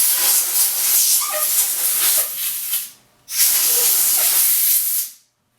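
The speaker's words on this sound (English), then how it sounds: "A little bit of compressed air. Kind of goes a long way here." Compressed air blasts in two strong hissing bursts, about three seconds and then two seconds long, with a short gap between, used while fitting a throttle onto a handlebar.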